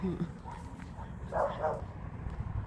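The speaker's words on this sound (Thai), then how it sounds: "มีหมาเห่า" A dog barks during a walk along a rural Thai path, a couple of short yips and a brief bark at moderate distance, heard under a man's steady chatter and outdoor background.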